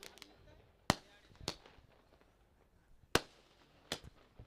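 Firecrackers burst in a welcome for guests at a local cricket tournament, four sharp separate bangs spaced unevenly, fairly distant over a quiet background.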